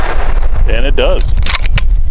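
A Zenith Z5 RS MP5 firing lightweight, pointed Inceptor 65 grain rounds produces several sharp, loud gunshots close by in quick succession, with a voice speaking briefly between shots.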